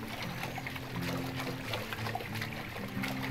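A wolf swims through river water in the game Wolfquest, making continuous pouring and trickling splashes that run steadily over a low background musical tone, with no talking.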